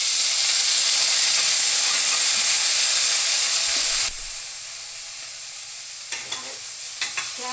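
Carrots sizzle steadily while frying in a pan, a loud, dense hiss for about four seconds that then drops to a softer simmer broken by a few light stirring clicks near the end.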